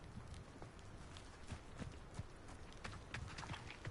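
Mount's hooves clip-clopping at a walk in the video game Hogwarts Legacy, a steady run of soft, even footfalls layered over constant ambient game sound with no talking.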